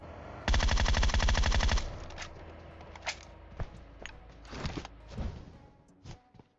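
A loud, rapid burst of MK14 rifle fire lasting over a second, followed by scattered shots and clatter in PUBG Mobile.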